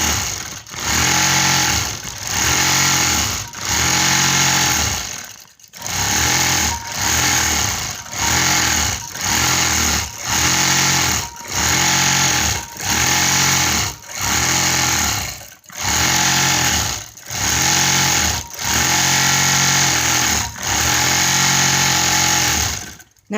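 A quilting machine stitches a feather pattern in continuous custom quilting, its loud motor buzz coming in steady bursts of about a second with brief pauses between, close and alone with no talk.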